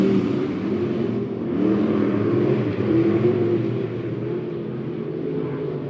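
Race cars in a heat race at Monett Motor Speedway roar steadily and loud, a continuous rumbling engine drone that swells slightly as they pass, with no voices over it.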